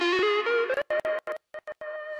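A synth lead from a dance-music drop build-up, pitched down with the pitch bend, slides in one long bent note and then breaks into choppy, gated stabs. It sounds loud and processed, with no voices.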